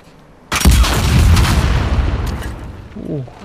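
Gunfire in The Last of Us Part II: a sudden loud blast followed by a sustained rumbling roll of shots and echoes, with a brief voice near the end.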